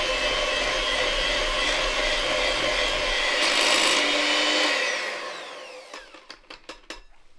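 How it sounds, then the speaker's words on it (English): Syrup sponge pudding batter is whisked steadily in a bowl with a continuous scraping, rasping churn that fades near the end, leaving a few light taps against the bowl. "And give it a good whisk."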